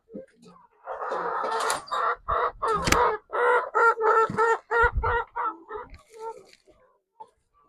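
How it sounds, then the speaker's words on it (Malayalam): Chickens cluck and squawk in a farm shed, a run of loud, closely spaced bursts near the microphone, with a rooster-like crow in the mix before the calls thin out to faint clucks. "കുറച്ച് അപ്പുറത്ത് ഉള്ളിലുള്ള കോഴികളുണ്ട്."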